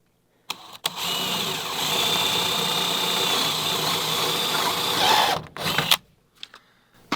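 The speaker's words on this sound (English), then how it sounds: "I'm going to drill my hole through the wall here" A power drill bores a hole through the wall of a workshop for a sub panel wire run, whining steadily for about five seconds after a brief start, then stopping with a few short bursts.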